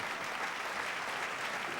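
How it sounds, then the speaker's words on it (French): Applause from a church congregation, a dense, even wash of clapping that holds steady at moderate volume throughout, with no voices standing out. "Un fuerte aplauso."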